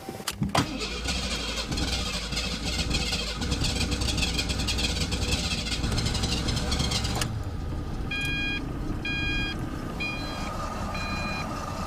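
A car engine cranks and catches with a loud burst, then settles into a steady idle rumble, and a repeating electronic beep chimes later on.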